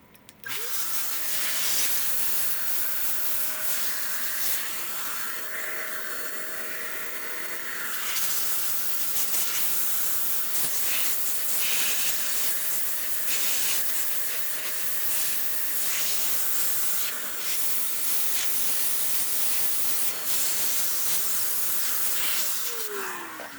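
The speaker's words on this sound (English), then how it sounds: "with my trusty little hand compressor." A small handheld air compressor blasts a steady, loud hissing stream of air to blow dust out of an MSI GP76 Leopard gaming laptop, running continuously with slight shifts in tone.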